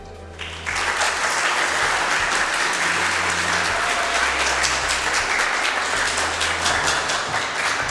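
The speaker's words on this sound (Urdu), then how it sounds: "اب میں جناب حافظ منیب اللہ کو آپ کی بھرپور تالیوں پہ اسٹیج پر دعوت دیتا ہوں" A large audience at a youth event at a doctors' postgraduate college bursts into loud, sustained applause to welcome a speaker to the stage, with dense clapping filling the room.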